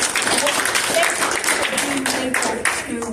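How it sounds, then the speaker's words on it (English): An audience at a poetry event in a library claps in a fairly loud burst that lasts throughout, with voices chattering and talking over the applause. "I just want to give you one more round of applause"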